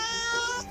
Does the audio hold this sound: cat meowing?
yes